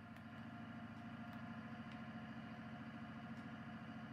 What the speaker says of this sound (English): a tractor like this here going up the hill and it's struggling